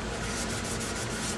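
Sandpaper skims lightly by hand over the clear coat on stained wood, a short close rubbing scrape with a steady, even texture.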